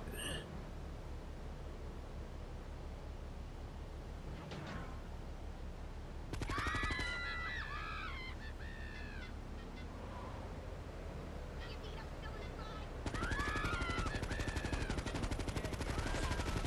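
Uzi fire in Grand Theft Auto 3 Definitive Edition, rapid machine-gun bursts that start and stop in separate volleys, loud and close, with background game ambience and no talking.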